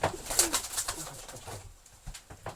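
Soft homing pigeon cooing with a few brief higher chirps, close and fairly quiet, over a short moment.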